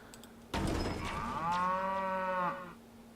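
A cow in the video game Planet Coaster gives one long, drawn-out moo of about two seconds, clear and alone against faint background hiss.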